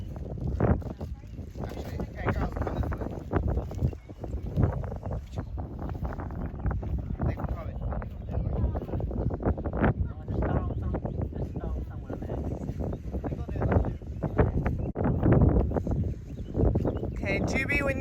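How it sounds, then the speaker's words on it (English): Strong gusting wind of about 15 miles per hour buffets the microphone in a continuous rumbling roar, loud and close, with voices speaking faintly underneath. "It is so windy."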